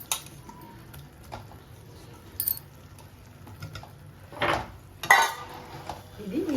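Pieces of dried split fish tipped into a tomato curry in a cooking pan, giving a few brief clinks and soft clattering knocks against faint background noise.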